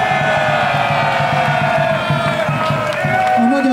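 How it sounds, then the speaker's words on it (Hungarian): Crowd noise and cheering after a men's water polo Hungarian Cup final won by Ferencváros, heard loud and continuous beneath prominent music. "kérek mindenkitől egy nagyon-nagyon-nagyon köszönöm tapsot"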